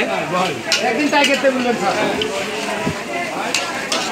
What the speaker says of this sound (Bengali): রাজশাহী নহাটার ঐতিহ্যবাহী রিপন কালো ভুনা এখানে চলছে, রান্না হচ্ছে।